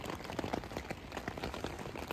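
Rain falls on a tent in a steady, soft patter of many small drops, faint and close, with no voices.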